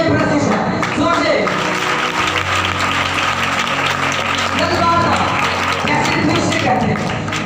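A worship congregation clapping hands together in praise, a dense, sustained patter of many hands filling the room, with voices speaking and singing over the applause.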